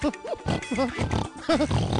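Quick, close pig oinks and grunts from the video game You Don't Know Jack, a rapid run of short snorting calls lasting about two seconds.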